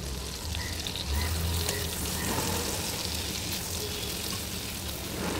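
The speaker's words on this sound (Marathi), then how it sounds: "त्यामध्ये लसूण टाकायची बारीक करून, लसूण जरा चांगली शिजली" Finely chopped garlic frying in oil and ghee in a pan, a steady loud sizzle filling the whole stretch with a faint stir partway through.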